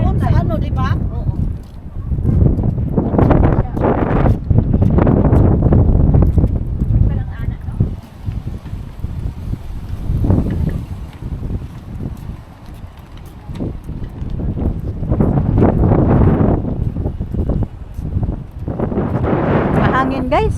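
Strong wind blowing at the seashore near high tide, roaring and buffeting against the microphone in continuous loud gusts, with people talking casually over it.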